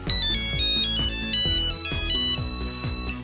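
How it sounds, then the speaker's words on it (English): The Nokia tune (Grand Valse) plays as a bright, clean electronic ringtone, a single pass of the melody with evenly spaced notes, loud and alone with no voices. "The Nokia 2110 was the first phone to include the Nokia tone, or Grand Valse."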